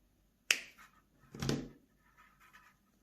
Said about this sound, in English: use your wire cutters or your old scissors to snip that off